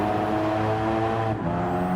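A Ford Focus RS engine at full throttle in Gran Turismo 7 on Road Atlanta, a loud, steady harmonic drone climbing in pitch, briefly dipping as if shifting, then droning on, with no talk.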